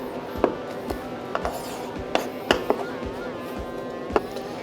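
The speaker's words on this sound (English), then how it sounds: "I like to just chop it all up." Food is chopped with a knife on a board for a gator cook, producing a run of sharp, irregular knocks up close against a light background.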